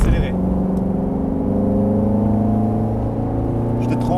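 A race car's engine drones steadily from inside the cabin on the Mettet circuit, its layered tone holding loud and even as it begins to accelerate out of a corner.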